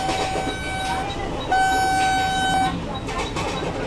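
A Vande Bharat Express train in a Train Simulator game on the Solapur–Mumbai route passes near Kalwa station, giving steady rail rumble and long sustained horn tones that swell louder midway, with talk underneath.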